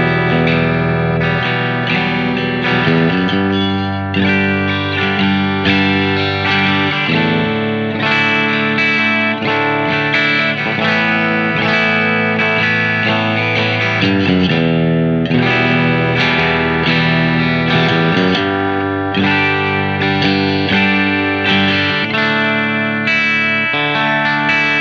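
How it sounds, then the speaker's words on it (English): Electric guitar through a Planet Tone Elite Pro P90 humbucker-sized bridge pickup plays a steady run of strummed chords and ringing notes, loud and close with no talking. "starting with our bridge pickup, here's a very clean sound."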